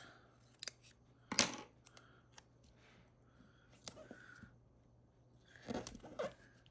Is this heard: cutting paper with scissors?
yes